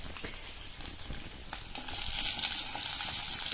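Garlic and onion sizzle and crackle in hot oil during a tempering for a vegetable dish, with a steady close hiss that swells louder partway through and some light stirring, with no talking.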